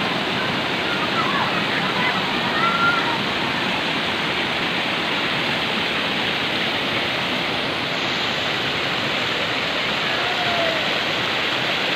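Water pours over a small waterfall at the Kinabulingan mini falls in Salama, North Cotabato, a steady, close, broadband rushing that fills the whole clip without a break.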